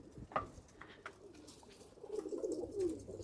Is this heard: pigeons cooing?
yes